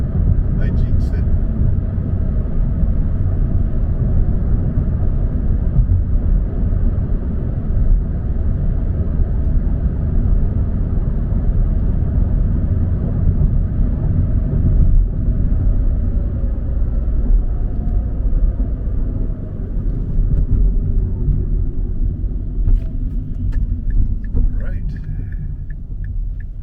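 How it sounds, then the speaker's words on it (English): Three cars pass by on a road near a parking lot, their low rumbling swells rising and fading in turn as they roll past, loud and close. "Cars coming, 3 cars."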